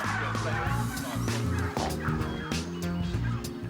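Bronze turkeys on a farm gobbling and calling continuously in a noisy flock, close and steady, with overlapping warbling cries throughout.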